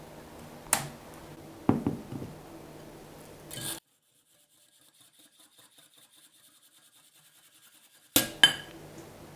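Lentils being washed with water in a cooking pot: a few clinks and swishes, then a quiet stretch of faint trickling, and a final burst of sloshing and scraping in the pot.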